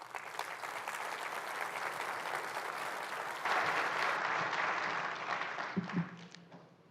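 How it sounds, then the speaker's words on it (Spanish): An audience at an investment seminar applauds a speaker, a dense, steady wash of many hands clapping that swells slightly, then thins out with a few scattered claps at the end. "Un aplauso para él"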